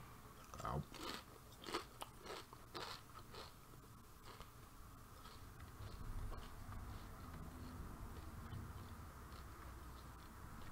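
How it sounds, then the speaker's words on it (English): Bites and crunches of snack food being chewed near the mic, several sharp crackly bursts early on, then quieter chewing over a steady hum of boxing video game audio. "So you're gonna hear me crunching on some stuff possibly."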